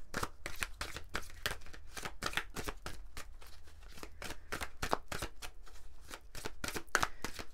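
Rapid riffle shuffling of oracle cards, close and crisp, with dozens of quick papery bursts in a steady rhythm that runs without a break.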